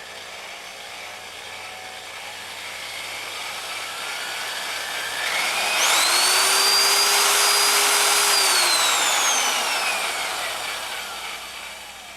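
A variable-speed drill motor driving a bead roller whirs steadily, rising in pitch as it speeds up, holds a high whine, then slowly winds down; no talking.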